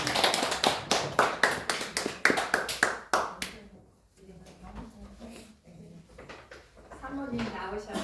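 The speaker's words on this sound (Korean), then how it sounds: "그 사모님께 감사의 박수 한번 올려드리겠습니다" A church congregation bursts into thankful clapping for the pastor's wife, a dense, close round of hand claps lasting about three seconds before it fades and a voice begins speaking in the hall.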